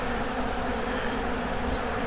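A swarm of honeybees hums in a dense, steady drone close by around honey frames during a harvest, with no break in the buzzing.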